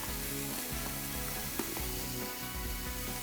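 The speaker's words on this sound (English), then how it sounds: "Or just throw it in some hot oil." Dried garlic chips sizzle steadily in hot oil, a dense, continuous crackling hiss that stays loud and close throughout, with one brief sharper pop partway through.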